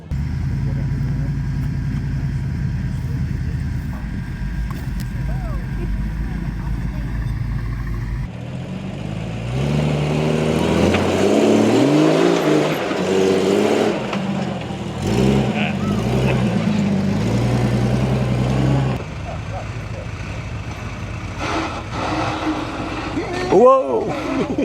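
A Land Rover Series III engine labours and revs as the vehicle climbs a steep off-road bank. The engine note is loud and close, with voices talking over it.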